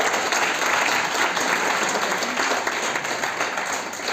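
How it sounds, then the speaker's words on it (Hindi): A large audience at a business training seminar breaks into loud, dense applause that holds steady and unbroken from start to finish, with no voices rising above it. "जोरदार तालियां एक बार आप सभी साथियों के लिए, जोरदार तालियां एक बार।"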